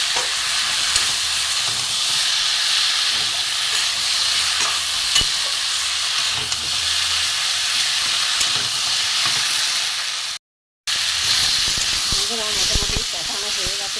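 Vegetables and spices sautéing in a pan for a Bengali dish of Malabar spinach with hilsa fish head, a steady loud sizzle and hiss with occasional stirring scrapes, close up, cut briefly near the end.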